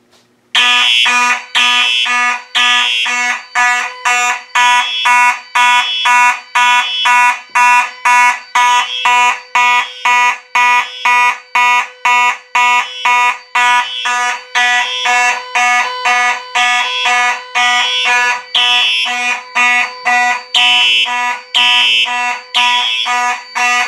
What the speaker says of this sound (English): with all that in mind, let's pull the fire alarm